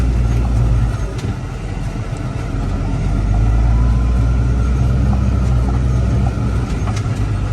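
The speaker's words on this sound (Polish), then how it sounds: "12 km na godzinę i fędzik mruczy" Steady low rumble of a Fendt 924 Favorit tractor engine pulling an Amazone Catros disc harrow across a field at about 12 km/h, droning close and continuous with no speech.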